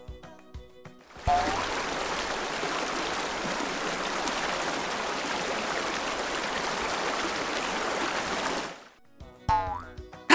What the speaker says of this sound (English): Now we'll hear a river. Can you hear the water flow?